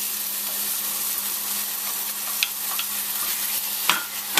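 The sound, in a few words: pureed tomatoes added to hot pan, sizzling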